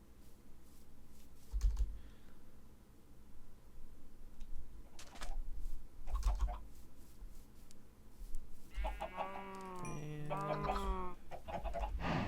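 Minecraft chickens cluck in a short burst of several calls near the end, preceded by soft tapping and low thuds from the game world, with no talking.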